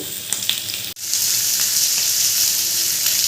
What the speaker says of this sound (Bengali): নুন দিয়ে আলুগুলো ভালো করে ভেজে নেব